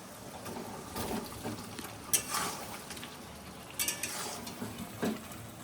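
Fried cauliflower tipped into a pan of spice paste and water: soft sizzling and stirring with scattered clinks of a utensil against the pan, quiet and close.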